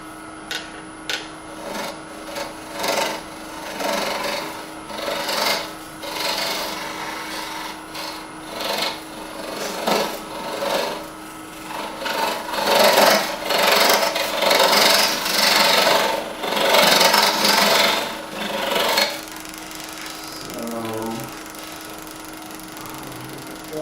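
Rasping, scraping wood sounds come in repeated strokes as the bottom of a turned wooden bowl is cleaned up, rising and falling in loudness over a steady background hum.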